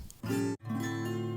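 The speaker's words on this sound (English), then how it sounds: "also played on the acoustic guitar" Acoustic guitar layered into a remix, a sustained harmonic part ringing steadily with a brief drop near the middle before resuming, close and full, with no voices.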